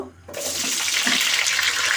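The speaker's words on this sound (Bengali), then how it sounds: "তেলটা গরম হয়েছে আমি এখানে সবজিগুলো দিয়ে দিব" After a brief quiet moment, a loud hissing sizzle bursts in as vegetables for soybean khichuri hit hot oil, continuing as a steady crackling roar.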